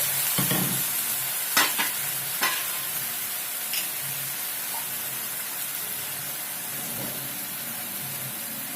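Soy sauce and vinegar sizzle steadily in a hot pan of soya chunk Manchurian over a low gas flame, a continuous hiss with a few soft clinks and stirring scrapes, close and even throughout.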